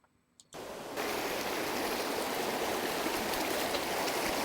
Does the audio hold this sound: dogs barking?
no